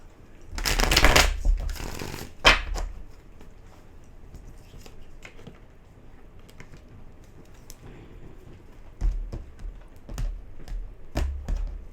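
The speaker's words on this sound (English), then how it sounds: "One more shuffle here, Taurus." Tarot cards shuffled in quick riffling bursts near the start and again toward the end, close and crisp, with quieter handling in between and no talk.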